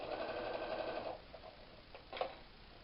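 A sewing machine runs in a short, steady whirring burst while stitching a folded fabric edge slowly, then stops, followed by a few faint clicks and a brief mechanical rattle.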